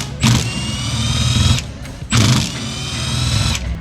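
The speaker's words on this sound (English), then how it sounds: "we're going to pull out all these 8mm bolts." A ratchet clicks rapidly in two close bursts, each about a second and a half long, while 8mm bolts are backed out of the accumulator cover on a 4L80E transmission.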